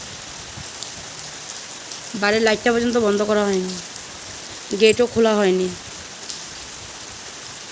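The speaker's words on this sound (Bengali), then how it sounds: "কী যে একটা বৃষ্টি আরম্ভ হয়েছে আজকে" Heavy rain pours down steadily outside a house, a dense continuous hiss of drops on surfaces that runs throughout, while a person talks over it in two short stretches.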